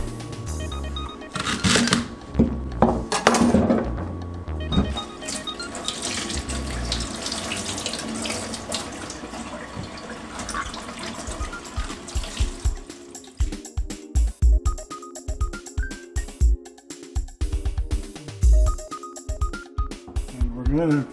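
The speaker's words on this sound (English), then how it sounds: "Now we're going to wash some celery." Tap water runs into a sink while celery is washed for white bean soup, a steady splashing rush that later breaks into choppy bursts of water and handling, with a voice talking at times.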